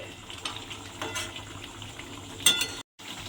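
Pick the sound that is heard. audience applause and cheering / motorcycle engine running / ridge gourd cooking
ridge gourd cooking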